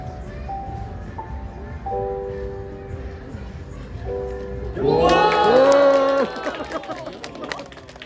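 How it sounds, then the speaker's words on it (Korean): A street crowd at Daehangno gathers around a magician performing a cube trick; a loud burst of cheering and exclamations rises from the onlookers, followed by scattered hand claps, with a voice talking over murmuring chatter beforehand. "앞에 있는 사람들 박수 막 쳐준다"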